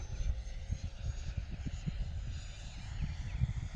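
An RC model jet, a Thunderbird, passes low over the runway, a steady engine rumble and whine with a rough, fluttering low end, fairly close and continuous with no talk.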